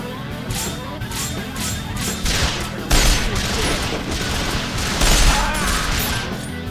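Rapid video-game gunfire from firefights with enemies such as the Rogue Gunman: dense, continuous bursts of shots and crashing impacts, loud and close, with louder volleys near the middle and end.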